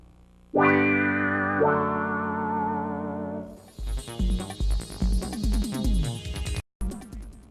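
A bright Roland XP-10 synthesizer tone swells and sustains, then gives way to a choppy, distorted custom patch with stuttering, effect-laden notes and a brief dropout.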